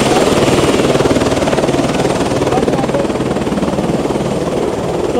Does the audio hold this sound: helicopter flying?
yes